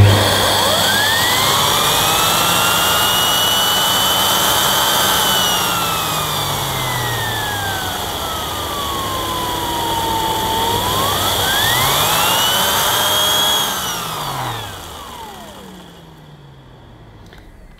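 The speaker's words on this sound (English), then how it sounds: "Let's check the old turbo brush spins as it should." A Sebo K1 Komfort cylinder vacuum cleaner runs loud and close with its turbo brush spinning, giving a steady whine whose pitch sweeps up and down before the motor winds down at the end.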